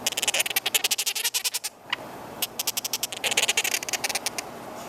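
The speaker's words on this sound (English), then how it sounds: "They love to beg for food and they sound like little goats." Quaker parrot chicks two to three weeks old begging for food, a rapid series of loud, bleating, goat-like calls in quick rhythmic pulses, pausing briefly before resuming.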